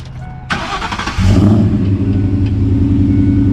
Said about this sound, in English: I fire this thing up.